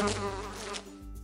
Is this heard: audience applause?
no